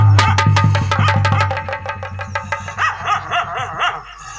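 A dog barks in a fast burst of sharp repeated woofs, then the barks grow fainter and more spaced out as it trails off.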